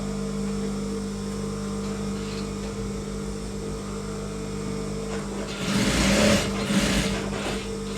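A tailoring sewing machine attaches a belt strip to pants with diamond-shaped stitching, giving a steady motor hum throughout that swells into a louder, busier stretch near the end.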